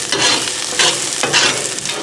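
Vegetables stir-fry on an outdoor grill top, a loud close sizzle broken by rhythmic scraping and tossing strokes about every half second.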